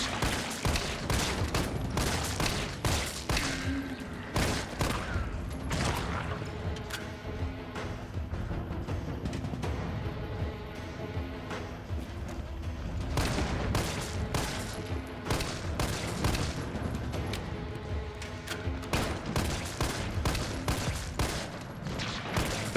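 Handgun shots at zombies in the Resident Evil 3 Remake video game ring out in a dense, continuous volley of rapid sharp reports over game noise.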